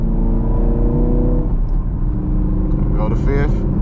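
Loud in-cabin engine drone from a Camaro 2SS 1LE with a six-speed manual, rising in pitch, then dropping at a shift into fifth gear and pulling again, with someone talking over it.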